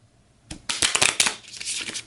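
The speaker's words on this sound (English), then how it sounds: "We'll give that a quick shuffle." Game cards from a Sentinels of the Multiverse deck are riffle-shuffled up close, a dense burst of papery flutter and snapping lasting about a second and a half after a brief quiet start.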